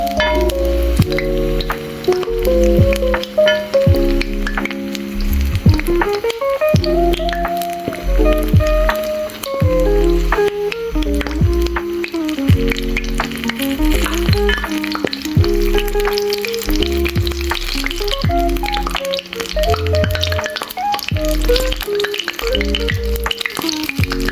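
Pumpkin flower fritters frying in hot oil, a continuous sizzle and crackle with bursts of spattering, while music plays throughout over the frying.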